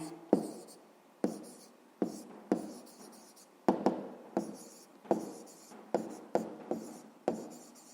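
Pen strokes of an answer being handwritten on paper, a series of short scratchy bursts with regular pauses between them, close and fairly quiet, with no talking.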